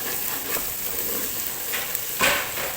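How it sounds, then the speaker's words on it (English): Garlic and ginger frying in a pan for chicken biryani, a steady soft sizzle with crackling that swells briefly near the end, close and alone without talk. "we're gonna give it a little time for the garlic and the ginger to cook"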